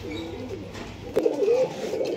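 An Old Line pigeon coos close by, a soft low rolling call that swells in the second half over quiet background.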